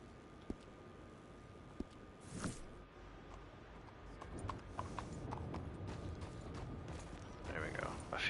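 Horse hooves clip-clop in Red Dead Online, a steady run of hoofbeats at moderate distance with some creaking of tack and mechanical clatter, growing busier toward the end.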